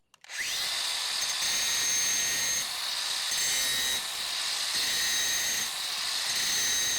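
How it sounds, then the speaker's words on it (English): A DeWalt 60V Flexvolt cordless angle grinder spins up and grinds metal, a loud, steady high-pitched whine with a rough grinding edge that holds for several seconds with slight dips in load, with no talking. "Super smooth action, so much power in this grinder."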